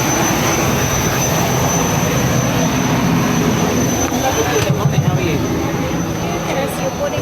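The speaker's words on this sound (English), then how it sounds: "My ride today then is this Eswatini Air Embraer 145" Steady broadband roar of an Eswatini Air Embraer 145 regional jet's engines, heard continuously from inside the cabin with faint speech mixed in.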